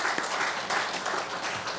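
A church congregation clapping together during a Sunday service, a steady burst of applause lasting the whole moment with no voices over it.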